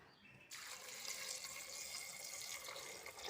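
Tap water pours steadily into a cooking pot after washing cut green beans, a continuous bright splashing rush that starts abruptly and runs close and loud with no talk.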